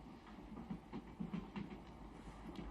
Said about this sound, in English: we are now on a Russian train